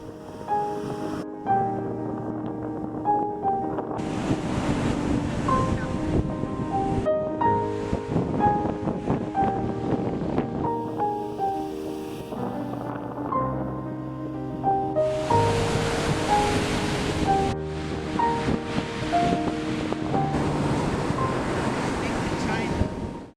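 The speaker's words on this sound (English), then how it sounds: "The sound of the crashing waves" Ocean surf breaking on the Los Angeles coast near Santa Monica, a continuous loud roar of waves with wind buffeting the microphone, rising in two stronger surges and lasting the whole stretch without speech.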